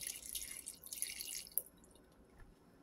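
Water is poured into a pot of paksiw being cooked, a soft splashing trickle for about a second and a half, then a final drip and quiet.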